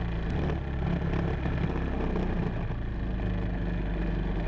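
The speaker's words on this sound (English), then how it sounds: "As you can see, putting my foot down on the throttle, there is no power." Racing kart engine bogging with no power under throttle, a low rough continuous drone that stays flat without rising, close and steady throughout.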